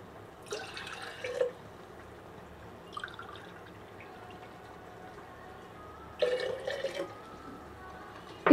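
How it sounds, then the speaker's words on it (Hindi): White vinegar already sits in a glass jar as water from a glass is poured in, with two short splashing pours, the second a few seconds after the first, plus faint drips between them in a quiet kitchen. "इसमें 2 ग्लास भर के पानी डाल देंगे।"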